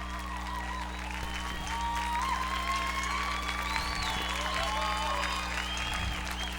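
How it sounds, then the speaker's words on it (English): Applause sound effect played back from a machine, a steady wash of clapping from a crowd that holds evenly throughout at moderate level. "Yeah, applause."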